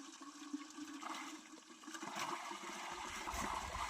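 Water pouring into a vessel being filled for drinking out in a pomegranate orchard, a continuous rushing gurgle that grows fuller and louder toward the end, heard up close with no talking.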